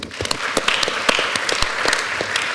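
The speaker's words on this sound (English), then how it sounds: "A very big applause for Claude Agile." Steady crowd clapping for a named organiser at an architecture talk evening, many hands overlapping in a loud, even wash with scattered sharper claps and no speech.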